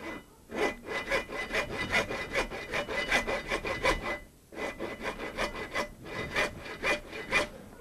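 A hand saw cuts wood in rapid rhythmic back-and-forth strokes, a rasping series of close, even pulses with a short pause midway before the sawing resumes.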